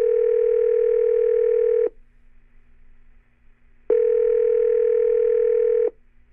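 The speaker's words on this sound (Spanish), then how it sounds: "Ya cuando tenía marcado el teléfono de Facua" A telephone line gives two long steady tones about two seconds each, separated by two seconds of near quiet, loud and close with no voices.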